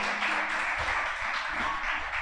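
Church congregation applauding during a Sunday service, a dense continuous wash of many hands clapping at moderate volume, with a faint voice underneath near the end.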